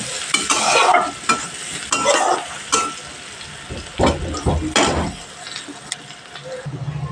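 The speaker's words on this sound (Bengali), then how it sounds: "পেঁয়াজটাকে গ্যাসের ফ্লেম লো টু মিডিয়ামে রেখে ভেজে নেব পেঁয়াজটাকে প্রথমে।" A medium onion fries in a pan over a low-to-medium gas flame for a Bengali prawn curry, a close, steady sizzle broken by repeated loud bursts of stirring and scraping, with no voices present.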